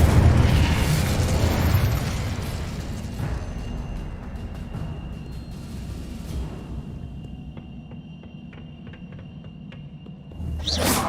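Incendio fire spell cast in Hogwarts Legacy, a loud fiery burst and whooshing roar that fades over several seconds into scattered crackles and faint ticks, with another swell at the end.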